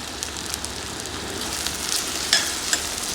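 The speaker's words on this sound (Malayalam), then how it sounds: "വെളിച്ചെണ്ണയിലേക്കാണ് ഇട്ട് കൊടുക്കുന്നത് എന്നിട്ട് നന്നായിട്ടൊന്ന് ഇളക്കി കൊടുക്കുക" Okra sizzles and fries in coconut oil in a home kitchen as it is stirred, a continuous crackling hiss with a few louder scrapes and clinks of the spoon near the end.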